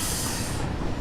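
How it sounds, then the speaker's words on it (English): A hyperspeed passenger train in the video game Satisfactory rolls past with a dense rumbling rush and hiss, loud and close, easing slightly at the end of one second. "Hyperspeed passenger train. Let's go."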